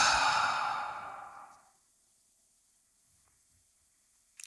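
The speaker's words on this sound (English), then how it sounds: "I'm going to invite us to take a deep breath in for ourselves." A single deep breath, loud and close at first and fading over about two seconds into near silence, with a faint click at the end.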